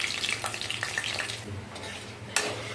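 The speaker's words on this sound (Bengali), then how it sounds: "দেখো লঙ্কাটা এরকম একবারে কড়া করে ভাজতে হবে, মশলাগুলো একটু কড়া করে ভাজতে হবে" Dry red chillies, panch phoron and mustard seeds fry in hot oil in a kadai, a steady close sizzle with scattered seed pops and a sharp crackle near the end, no talk.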